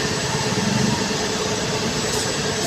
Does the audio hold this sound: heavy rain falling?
no